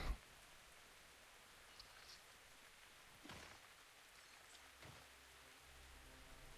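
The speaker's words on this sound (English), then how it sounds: "just listen to the rain" Rain falls steadily outdoors as a soft, distant broadband wash, faint and continuous, with a few low thumps and swells mixed in.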